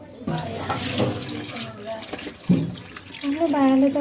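A tap runs with steady water noise into a sink, mixed with people talking over it.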